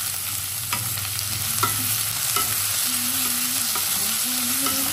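A vegetable curry fries and sizzles in a wok, with a steady frying hiss throughout and a few short clinks of a spoon stirring against the pan.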